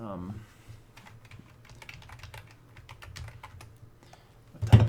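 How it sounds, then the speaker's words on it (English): Rapid clicking keystrokes on a computer keyboard, close and fairly quiet over a low background hum, ending with a louder thump. "My typing's on point right now."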